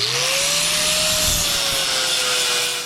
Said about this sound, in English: Now we can take the flap disc and smooth that out.